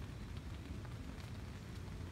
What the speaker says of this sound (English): You don't mind the rain, do you?